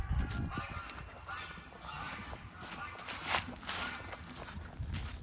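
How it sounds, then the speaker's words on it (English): Male geese separated from the females honk at a farm animal sanctuary, loud repeated calls carrying over wind-like noise and some footsteps outdoors. "Those geese, those boys are very unhappy to be separated from the girls."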